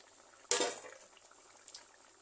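Chicken curry boils in a pot. A sudden hiss and rush comes as the lid is lifted, then it settles into soft, close bubbling and simmering with a faint clink near the end.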